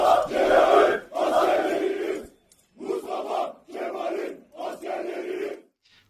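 Young army lieutenants at a military academy graduation ceremony chant a slogan in unison, loud rhythmic group shouts in distinct phrases separated by short pauses.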